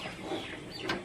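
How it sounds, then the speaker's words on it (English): A short bird call sounds from a little distance, a quick clucking chirp repeated twice in about a second. "No, that was a bird from outside."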